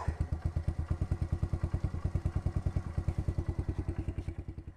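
A Kawasaki KLX110 dirt bike idles at a steady, rapid single-cylinder thump, close and even throughout, with a slight mechanical clatter and no talking.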